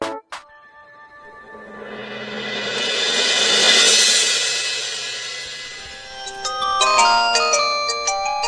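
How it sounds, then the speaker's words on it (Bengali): A phone ringtone for an incoming call plays alone, a sustained electronic melody that swells louder through the middle and then breaks into quick bright beeping tones, with no talking. "না ফোন করছে"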